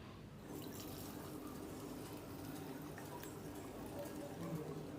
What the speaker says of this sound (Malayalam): ഇനി നമുക്കിതൊന്ന് അരിച്ചെടുക്കാം